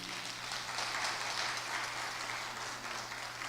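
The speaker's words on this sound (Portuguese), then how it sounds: "Palmas para Jesus." Steady applause from a church congregation during a Sunday school lesson, honoring a couple accepting Jesus; a continuous, even wash of many hands clapping, moderately loud and unbroken for the whole stretch, with no talk over it.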